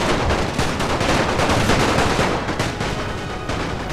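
Massed gunfire from infantry units in the strategy game The Great War Mod, with dense overlapping rifle and machine-gun bursts crackling continuously at close range, loud and without talk.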